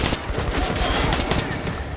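Dense, loud gunfire from the video game Metro Last Light Redux rattles on in a steady stream of overlapping shots for the whole two seconds, with no voices.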